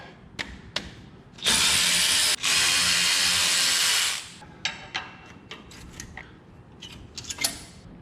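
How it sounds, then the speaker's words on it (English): A power tool whirs in two loud, sustained bursts with a brief break between them, removing the brake caliper bolts on a Dodge Ram 2500 front axle, framed by clanking metal taps and knocks. "Take the two caliper bolts off."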